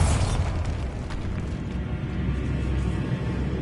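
A Bombarda blasting curse in Hogwarts Legacy, a rumbling explosion with a heavy low boom that rolls on as continuous debris noise.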